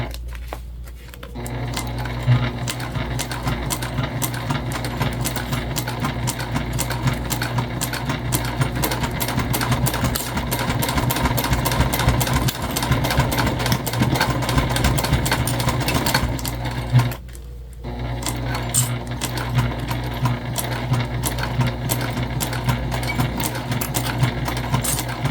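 A sewing machine back stitches a travel sling bag, running in a steady, loud, continuous rattling drone with a brief pause near the end before it resumes.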